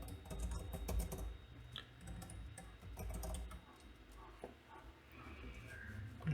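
Computer keyboard typing while writing a calculation, a quiet scatter of close key clicks in irregular bursts over a low background hum.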